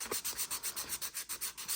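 Sandpaper, fine to medium grit, is rubbed back and forth across a playing card to remove its gloss, giving about a dozen rapid, even scratchy strokes close up, with no talking.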